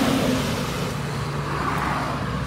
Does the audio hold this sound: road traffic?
yes